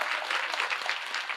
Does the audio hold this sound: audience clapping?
yes